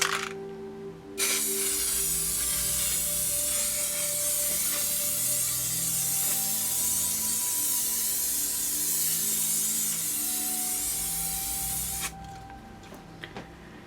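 Fixative sprayed as a first coat onto a pastel artwork from about half a foot away, one continuous loud aerosol hiss lasting around eleven seconds, starting and stopping abruptly with no talk.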